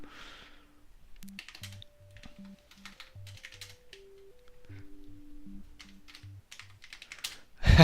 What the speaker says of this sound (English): 2 more minutes of keyboard sound